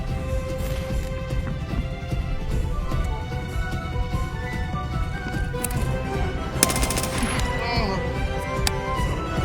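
Gunfire in the video game Escape From Tarkov, rapid bursts of shots crackling through a noisy mix with a sharp crash of louder reports near the end, a voice talking over it at times.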